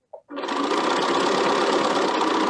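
A sewing machine stitches quilt block seams, starting after a brief click and then running in a steady, loud, even hum of rapid stitching with no talk.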